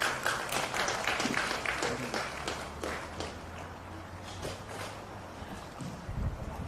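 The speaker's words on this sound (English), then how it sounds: "please round of applause" Crowd at a women's Australian rules football match applauding after a welcome to country, a fairly faint, steady patter of outdoor clapping with wind rumble, lasting the whole stretch.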